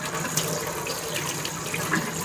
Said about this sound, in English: we're back at the kitchen sink, and we got our filter. I'm just gonna rinse it through water.